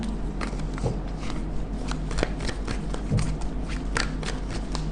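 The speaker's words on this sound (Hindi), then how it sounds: "एक ही शफल करेंगे, जिससे आना है वो आ जाएगा।" Close, steady shuffling of a tarot deck: a continuous papery riffle of sliding and flicking cards lasting several seconds, with no speech over it.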